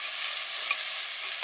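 Sausages and mushrooms searing in a pan for a chunky chicken parmesan sauce, a brief, even, hissing sizzle, close and steady, with no talking.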